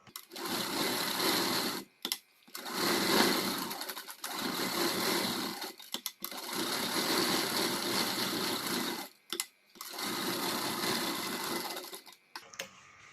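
A sewing machine stitches the neckline lining of a katori blouse in several long bursts of rapid whirring, each broken by short pauses, close and steady without speech.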